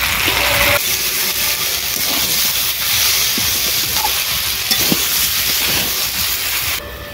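Chopped vegetables with salt and turmeric hitting hot oil in a pan, a loud continuous hissing sizzle that dips slightly near the end, with a few faint utensil knocks and no talking.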